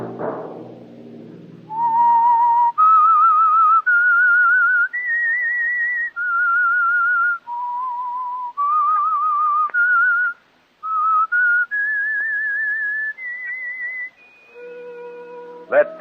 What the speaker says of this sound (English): Let that whistle be your signal for the Whistler each Monday at 9